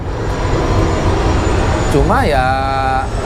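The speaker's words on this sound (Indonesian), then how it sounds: "Pesawat lewat dulu pesawat." A plane passes near the runway of Halim airport, a steady broad roar that hangs over the whole stretch while someone talks over it.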